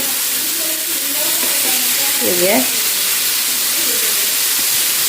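Tikka pieces fry on a large, very hot tawa with a loud, steady, close sizzle and hiss throughout, and a brief voice murmurs faintly under it in the middle.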